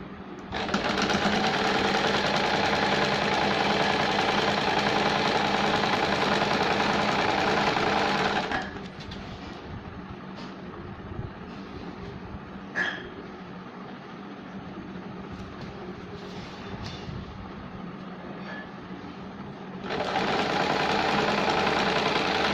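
A sewing machine stitches a baby girl's shirt, a loud steady mechanical whir running for several seconds, a quieter stretch with light clicks and handling, then the fast whirring stitching starts again.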